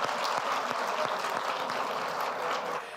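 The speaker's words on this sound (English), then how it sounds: "can you just clap hands for them?" Audience at a live interactive session with an LGBTQI+ society claps for the group, a dense and steady wash of applause holding at even loudness, with no talking over it.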